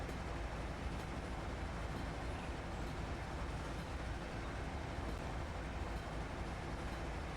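Freight train of about 40 cars rolling along in the Train Sim Pro game, a steady dense rumble of wheels and cars, faint and unchanging throughout.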